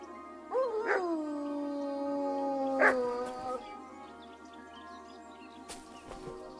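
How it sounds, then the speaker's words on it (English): Two drawn-out, wavering howls from a dog or wolf in the video game Kingdom Come Deliverance II ring out one after another against quiet background ambience, fairly close and clear. "I heard a dog."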